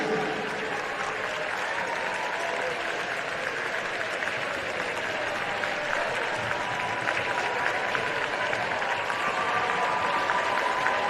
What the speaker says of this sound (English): Park Hall fans just getting a wee round of applause